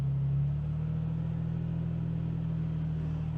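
A Toyota Tacoma TRD Pro truck drives through soft sand ruts on an Assateague Island beach. Its engine drones steadily and loudly up close as a low, even rumble, with no voices over it.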